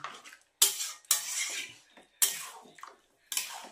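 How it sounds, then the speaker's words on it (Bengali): Meat being mixed by hand with ginger, garlic, onion and spices in a metal pot, heard as four or five separate bursts of wet scraping and clinking with short quiet gaps between them. "এই যে সব মশলাগুলোর সাথে মিশিয়ে দিচ্ছি, আদা রসুন তারপরে পেঁয়াজ এগুলোর সাথে ভালো করে মিশিয়ে দিলাম।"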